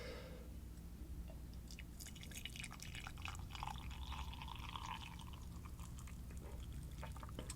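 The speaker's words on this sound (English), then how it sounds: "I will pour the tea." Turmeric ginger tea poured into a ceramic mug with an Australian Shepherd design, a close trickling stream with small drips and splashes at a quiet ASMR level, no speech.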